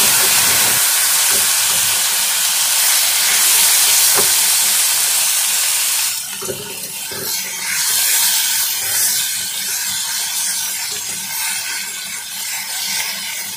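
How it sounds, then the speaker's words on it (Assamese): Fish fat frying in hot oil with onion and garlic, loud dense hissing and sizzling up close, easing slightly midway as stirring clatter breaks in. "মাছৰ তেলো ভালদৰে মই ভাজি ল'ম।"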